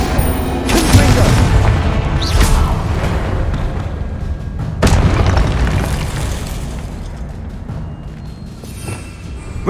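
Confringo explosion spells from the Hogwarts Legacy video game (2023) go off as loud, heavy booms, several bursts spread through a noisy battle with occasional speech in the mix.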